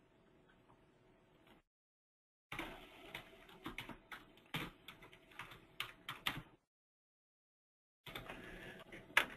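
Fingers tap quickly on a computer keyboard while using accounting software, soft close clicks arriving in two bursts separated by silent gaps, quiet and without speech.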